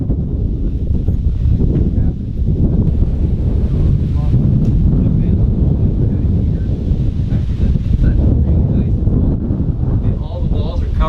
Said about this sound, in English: Sorry, it's kind of windy out here.